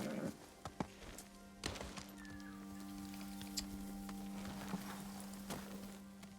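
A horse's hooves clop at a walk in Ghost of Tsushima, a few scattered, fairly faint thuds over a steady low hum, with no talking.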